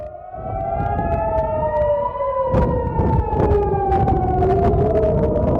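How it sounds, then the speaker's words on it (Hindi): A loud air raid siren in Tel Aviv during an Iranian missile attack rises and falls in slow wavering howls, continuous throughout, with faint thuds and clatter beneath it. "तेल अवीव में लगातार सायरन की आवाज गूंज रही है।"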